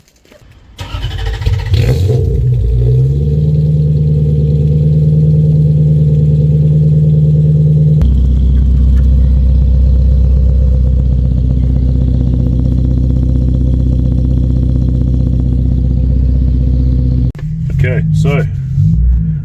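A Toyota Soarer's 1UZ V8 with an X-pipe exhaust cranks and fires up, settles into a loud, deep burbling idle, then lifts into a rev and blips near the end; a voice is briefly heard.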